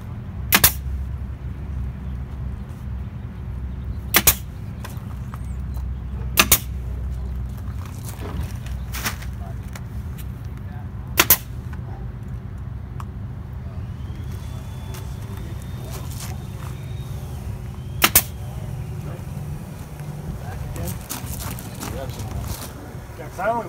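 Pneumatic nail gun firing into a board during an RV restoration, several sharp isolated cracks spaced irregularly over a steady low rumble, fairly close and loud.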